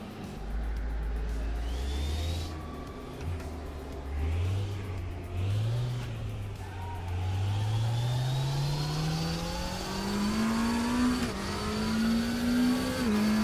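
A race car engine in the RaceRoom racing video game revs and climbs through gears, pitch rising and dropping with each shift, loud and continuous, with faint tire and wind noise.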